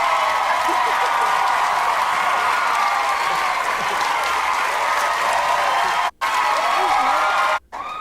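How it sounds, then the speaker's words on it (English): A talk-show studio audience breaks into loud, sustained applause and cheering for the Duchess of Sussex's entrance, a dense roar of clapping that runs steadily with two brief cuts near the end. "sure they forced them to do that amount of cheering"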